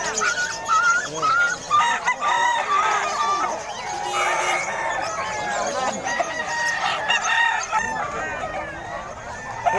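Poultry calls fill a live animal market: repeated crowing and clucking from several chickens nearby, loud and overlapping, continuing without pause.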